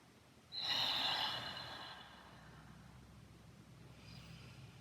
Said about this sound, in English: I'm going to take a couple deep breaths here.